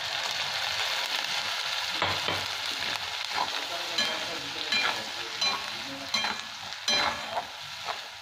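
Tomato puree being stirred in a hot pan for a Bengali prawn curry with potato and pointed gourd, a steady wet sizzle broken by repeated scraping strokes of the spoon, close and continuous with no talking.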